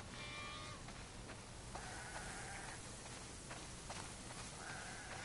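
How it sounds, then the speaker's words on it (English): Sheep on a farm in the video game The Last of Us Part II bleat several times, faint and distant under a steady noisy background. "Wow, that's a lot of sheep."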